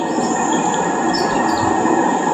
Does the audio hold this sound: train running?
yes